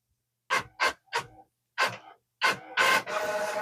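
An HP OfficeJet 4655 inkjet printer printing a status report gives several short mechanical bursts of carriage and feed motion, then a longer sustained whir of paper feeding, loud and close with no talk.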